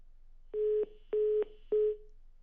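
Three steady telephone tones of about a third of a second each, evenly spaced on a line after a call disconnects, clear and alone with no talk.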